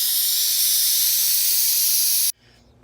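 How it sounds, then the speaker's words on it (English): Steam jets out of a pressure cooker on quick release while making chicken noodle soup, a loud, steady, close hiss that holds for over two seconds and then cuts off abruptly, leaving a faint quiet room. "the quick release, which I'm going to do right now, which kind of forces all the air out"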